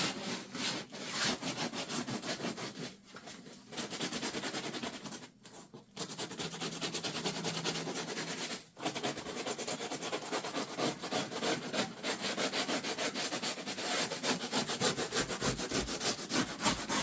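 Sandpaper of 80 grit rubbed by hand over a model railroad layout surface before painting, a steady continuous scraping rasp with brief pauses, fairly close and alone without talk.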